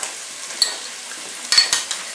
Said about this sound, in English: as you can hear we're frying